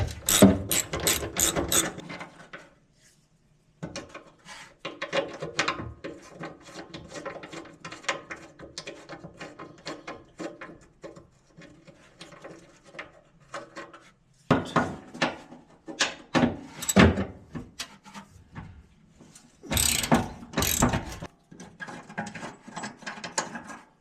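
Ratchet fitted with a 13 mm socket working bumper bolts loose on a 1973 Volkswagen Super Beetle, rapid clicking bursts repeated in several runs with short pauses between, close and clear.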